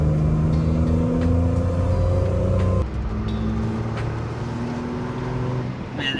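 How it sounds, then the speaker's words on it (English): A 1976 Datsun 280Z's straight-six engine humming steadily under load while driving, loud and continuous, with the pitch dropping at a gear change partway through and no one speaking. "that straight six just hums along whatever gear you're in"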